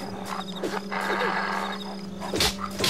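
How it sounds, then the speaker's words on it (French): In the video game Fragile Dreams, dogs give several short yelping barks against a steady droning background, a couple of sharp yips near the start and a louder bark burst toward the end. "Encore des chiens."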